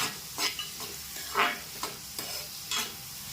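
Onions and green chillies frying in hot oil in a pan, stirred now and then, giving a steady close sizzle broken by several brief scraping stir strokes.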